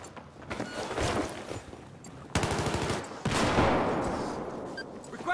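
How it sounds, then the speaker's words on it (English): Sustained machine-gun fire in a Battlefield 4 match on Operation Locker, heard as dense rapid bursts with an abrupt louder burst midway, close and loud, with no talk. "It looks like there's a hostile machine gunner."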